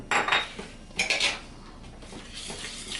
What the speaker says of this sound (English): I'm just gonna mix it.